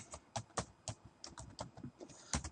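Quiet, close typing on a computer keyboard, a quick irregular run of key clicks with a few louder strikes scattered through.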